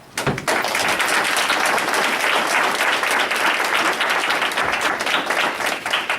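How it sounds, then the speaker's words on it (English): Lively audience applause for mayoral candidates at a candidate forum at the Consulate of Cape Verde in Quincy, Massachusetts, starting abruptly and holding as loud, dense, continuous clapping throughout. "I would like to ask all of you to join me in applauding all the candidates running for mayor."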